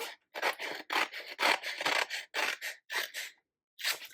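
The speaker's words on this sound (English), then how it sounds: "So then I can just come along with my scissors and follow that pencil line that I just did" Scissors snipping through scrapbook paper along a pencil line, a steady run of close, crisp rasping cuts in bursts with brief pauses between strokes.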